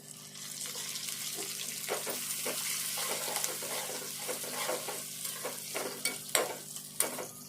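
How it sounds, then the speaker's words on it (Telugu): Ingredients with turmeric and coriander leaves frying in a pan, a steady dense sizzle with repeated scraping strokes of a stirring spoon, growing busier toward the end, close and without talk. "ఇవన్నీ మంచిగా దూరగా వేగాలి."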